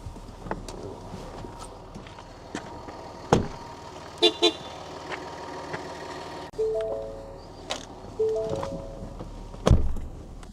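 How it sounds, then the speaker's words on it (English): A Ford Ranger pickup gives a short horn toot near the end as the driver gets out, after door thunks and repeated electronic chimes, all heard close up. "I get out and the car honks."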